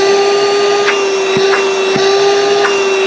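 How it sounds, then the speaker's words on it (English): A Vaclife cordless mini vacuum cleaner runs at full power, a loud steady whine with a constant high tone, broken only by a few faint clicks and bumps as it moves. "It has really strong vacuum."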